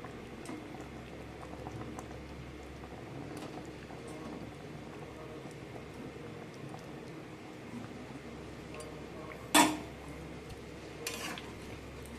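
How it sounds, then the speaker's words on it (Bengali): Curry gravy bubbling at a gentle boil in a pot, a soft continuous burble with one sharp clank of a utensil near the end and a fainter knock after it. "এখানে ঝোল ফুটে উঠেছে"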